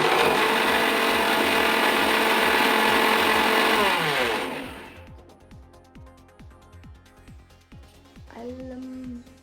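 A mixer grinder grinding spices whirs loudly at first, then its pitch drops as the motor winds down and stops, leaving a quieter stretch of rhythmic mechanical clicking.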